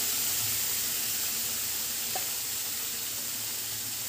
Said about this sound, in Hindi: अब हम इसी कटोरी से 2 कटोरी दूध डालेंगे।